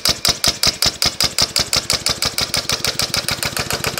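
A 2-cycle engine converted to run on compressed air at 40 psi chugs under load, a fast, loud, evenly spaced pulsing of sharp exhaust puffs that gradually quickens.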